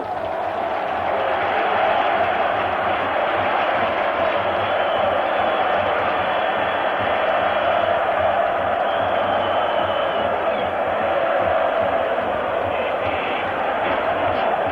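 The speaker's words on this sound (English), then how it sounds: "It's going to be difficult to hear the last 3 minutes to the sound of this crowd." A stadium crowd in Rome roars through the closing minutes of the 1984 Roma v Dundee United European Cup semi-final second leg, a loud, dense, unbroken wall of cheering and chanting.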